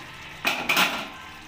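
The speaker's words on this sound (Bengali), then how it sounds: "এবার ঢাকাটা খুলে দেখে নেবো যে ফুলকপি আর আলুটা ভালোভাবে সেদ্ধ হয়েছে কি না" Lid of a pan of cauliflower and potato curry coming off: two quick metallic clanks close by, the second one ringing a little longer, with no talk.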